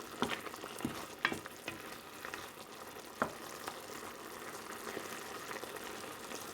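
Beef adobo fries and bubbles in a pan while being stirred, a continuous close sizzle broken by several soft scraping knocks of the utensil against the pan, with no voices.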